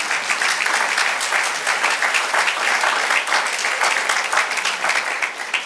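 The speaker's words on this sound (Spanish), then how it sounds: "Denle un aplauso al Señor." Applause from a church congregation, a dense continuous roar of many hands clapping, loud and sustained throughout with no pause.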